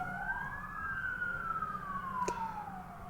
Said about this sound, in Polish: Ciągle tu jeździ Straż Pożarna, więc pewnie to słyszycie.